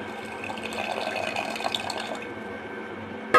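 Mutton stock is poured from a bowl into rice in a pot as a steady, close liquid stream. It stops near the end with a short clink.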